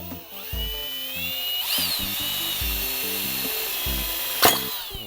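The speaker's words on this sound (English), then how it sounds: "I'm gonna drill a 1/2 inch hole." A power drill bores a half-inch hole through a lid, giving a loud, steady whine with a few brief pauses and restarts and a sharp burst near the end, heard alone.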